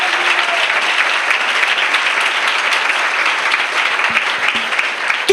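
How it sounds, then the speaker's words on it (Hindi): A church congregation clapping in steady, dense applause that holds at an even level throughout, loud and close. "मस्त बजाइए तालियां"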